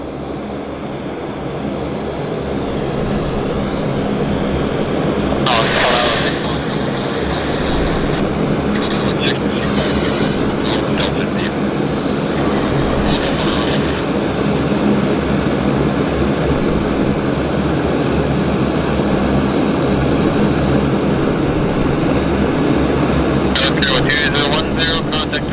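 A fixed-wing airliner at Vancouver airport roars down runway 26 left on its takeoff roll, a loud, sustained engine rumble filling the whole stretch with no talk over it.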